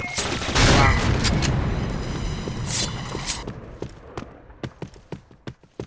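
Gunfire in a video game, starting as dense, loud battle noise and thinning into a rapid run of sharp, separate shots toward the end.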